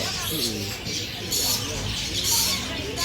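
Birds in a bird shop at Pudu market call and chirp in a busy, noisy mix, with cooing and sharp twitters rising over a steady background hum while people talk nearby.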